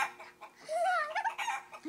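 A person imitates a chicken with a short series of warbling clucks and squawks, a close, faint voice rising and falling in quick bursts.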